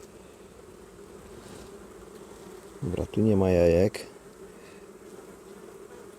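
Honeybees buzzing around an opened hive during an inspection, a steady close drone through the clip that swells into one loud near pass of a single bee about three seconds in; the beekeeper speaks briefly.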